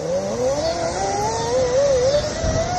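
Acton Blink electric skateboard motor accelerating, a rising electric whine that climbs steadily in pitch over about three seconds, loud and continuous over road noise, with no talking.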